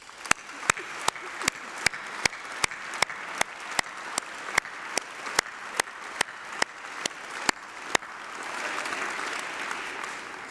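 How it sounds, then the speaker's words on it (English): Audience applause at a university graduation ceremony, heard as a rapid run of single sharp claps near the microphone before a broader, softer wash of clapping from the hall in the last few seconds. "Please join me in giving them a massive round of applause."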